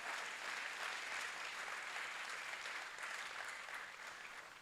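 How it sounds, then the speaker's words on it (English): An audience at an oratorical championship applauds, a dense, steady wash of clapping from many hands sustained evenly throughout, fairly quiet and slightly distant. "Let's give them all a round of applause."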